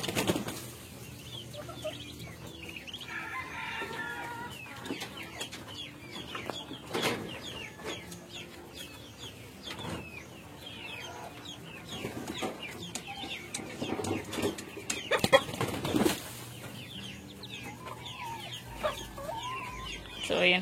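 Brahma chickens cluck and squawk in a backyard coop, a busy overlapping chorus of close and distant clucks with occasional wing flaps and scuffling, a faint voice now and then underneath.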